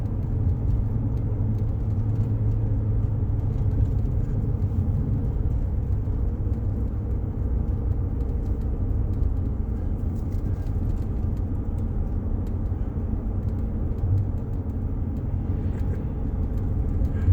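Large mining haul trucks at the Morenci copper mine in Clifton, Arizona, give a steady, heavy low engine rumble that holds constant throughout, with no talking.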